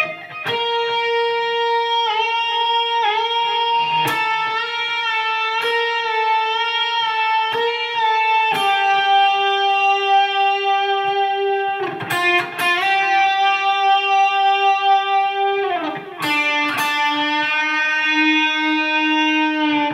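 An electric guitar plays an intro lick slowly, with clear sustained distorted notes, occasional bends and slides, and short picked accents at a steady, unhurried pace.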